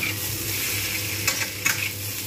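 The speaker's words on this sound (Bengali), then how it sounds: "লবণ দিয়ে ভালোভাবে এতে কিন্তু কষতে থাকবো" Spice paste with tomato, potato and salt being stirred and sautéed in a pan, giving a steady close sizzle with a low hum beneath and a couple of brief scraping stirs.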